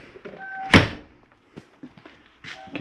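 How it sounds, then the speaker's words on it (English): A 2021 Catalina Legacy 343BHTS RV door swings shut with one solid thunk up close, followed by faint rattles and small knocks of the latch settling. "And I'll close our door."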